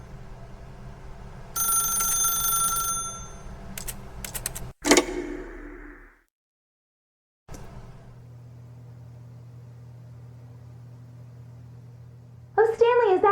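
A telephone rings in The Stanley Parable, a bright electronic trill heard in short bursts amid other game noises and room tone, followed by a stretch of near silence and then a low hum.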